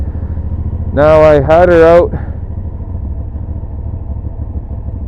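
A Hyosung GT 650 Comet motorcycle engine idles with a steady low, close rumble throughout, while a voice speaks briefly near the start.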